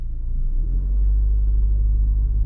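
The 1.4 MPI engine of an automatic Hyundai i20 idles at about 600 rpm, heard from inside the car as a steady, low, smooth rumble that stays constant throughout.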